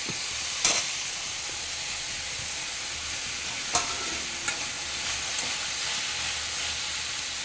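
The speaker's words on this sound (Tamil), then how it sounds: "ரெண்டு பெரிய தக்காளி அரிஞ்சு வச்சுருக்கோம் இதையும் இதுக்கு கூட சேர்த்து கிண்டி விடணும்" Chopped tomatoes stirred with mint and curry leaves in a hot pan for chutney, a steady close sizzle and hiss of frying with a few soft scrapes of the spoon against the pan.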